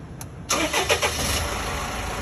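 Mercedes-Benz Vito W639 van engine cranking briefly and firing up, then settling into a steady close idle.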